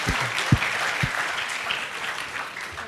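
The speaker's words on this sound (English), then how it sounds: "Let's give them a round of applause" Conference audience applauding panel speakers in a hall, a steady wash of clapping throughout with a few low thumps near the start, at moderate level.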